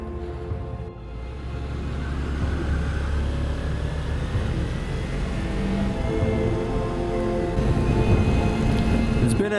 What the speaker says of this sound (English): It's been a while since I rode in the rain.